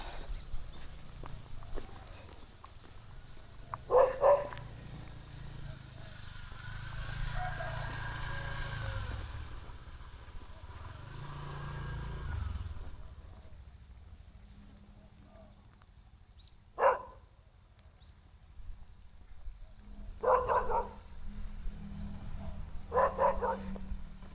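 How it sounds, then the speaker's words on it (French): A dog barks in intermittent bursts, fairly distant, beside a road during a bicycle ride around Lake Maninjau in Indonesia, with steady outdoor background noise and low rumbles between the barks. "il y a un chien qui aboie"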